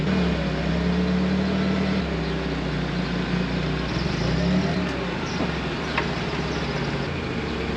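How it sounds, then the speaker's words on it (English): A fertilizer auger runs on a planting machine, its motor grinding in a loud, constant mechanical drone that fills hoppers across the whole machine, with a deep engine hum beneath. "We turn our auger on and it pulls it all the way across the entire machine"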